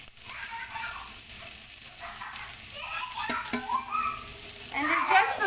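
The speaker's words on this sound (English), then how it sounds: "So first, we have to saute our onion." Onion sautéing in oil in a pan for pancit palabok noodles, a steady close sizzle with occasional stirring scrapes and faint background voices.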